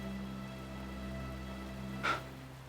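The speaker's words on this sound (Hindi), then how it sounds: "बाहर बारिश गिर रही है," Rain falls outside as a steady, soft hiss behind a low hum, with one brief, slightly louder splash-like burst partway through.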